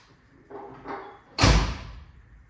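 A Holden HX panel van door swings shut with a loud, close thud, followed by a short fading rumble; a couple of softer creaks and movements come just before it.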